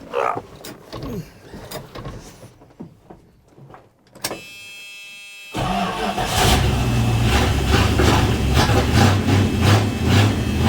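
Dodge W200 truck engine cranking after gas is poured into the carburetor, catching after a pause and then settling into a loud, rumbling, rough idle close by.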